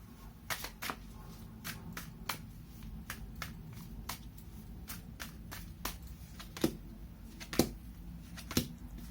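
Oracle cards are shuffled in a quiet room, producing a series of crisp, sharp riffling snaps and slaps at irregular intervals, a few louder than the rest, over a low steady background hum.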